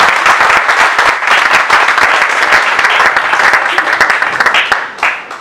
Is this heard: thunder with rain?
no